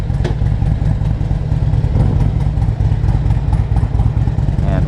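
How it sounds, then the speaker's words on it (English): A Harley Davidson Ultra Classic Electric Glide motorcycle's engine gives a loud, steady low rumble while riding, with a continuous throbbing pulse and rushing wind noise and no speech on top. "Today I'm riding with my son on a Harley Davidson Ultra Classic Electric Glide."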